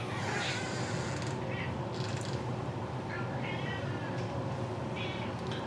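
Several short cat meows come in separate bursts over a steady low background hum, fairly faint and spaced apart.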